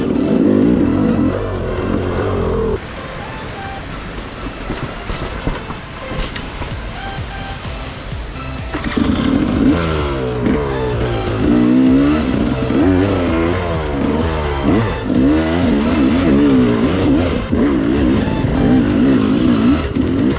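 A dirt-bike motorcycle on a Sunday trail ride through the countryside gives a loud, close, steady engine drone, then revs hard in repeated rising and falling bursts through the second half.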